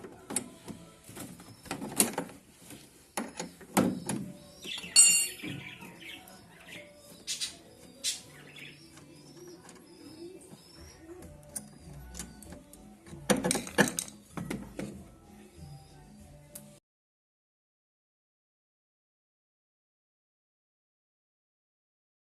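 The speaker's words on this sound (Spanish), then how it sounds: "soltamos con esta llave fija" A wrench loosens the pulley on a noisy Samsung washing machine, producing scattered metallic clicks, scrapes and ratcheting taps, close and fairly quiet, before silence falls for the last few seconds.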